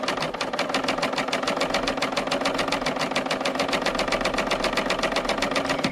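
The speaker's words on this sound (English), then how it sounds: "So here's my test stitch." A Bernina sewing machine runs a three-thread wide test stitch, giving off a fast, steady mechanical chatter with an even, rapid rhythm that holds close and loud throughout.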